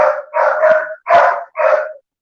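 Several dogs at home bark loudly and close by in a quick run of about four sharp, throaty barks, with brief gaps between them and silence at the end.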